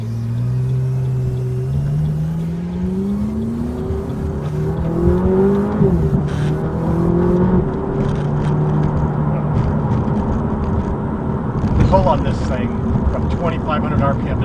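A McLaren 570S engine revs up while accelerating on the road, pitch climbing through the gears with shifts, heard from inside the car under occasional talk from the occupants.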